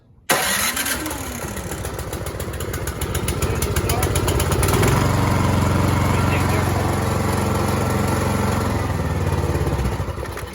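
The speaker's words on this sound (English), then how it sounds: "you just come around and hit your starter until it starts" A Cub Cadet 2X 24 snow thrower's electric starter cranks briefly before the engine catches, then settles into a loud, steady running drone close by.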